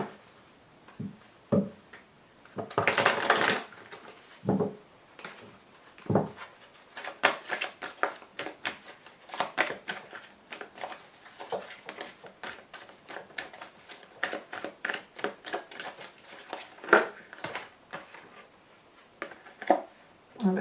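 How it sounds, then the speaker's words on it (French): Lenormand cards being shuffled and drawn on a table for a reading: repeated soft papery slides, flicks and taps in irregular bursts, close and fairly quiet, with no talk. "vous tire également 5 cartes du grand jeu de Mademoiselle Lenormand"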